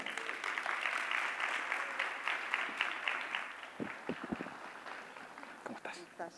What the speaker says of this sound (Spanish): Recibamos con un aplauso